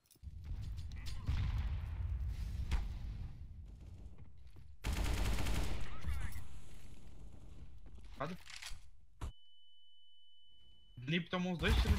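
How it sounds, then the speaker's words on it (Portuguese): Bursts of AK rifle fire in a video game, loud and close, with a dense stretch of rapid shots, short pauses and a steady electronic tone near the end. "Nip tomou uns dois tiros de AK"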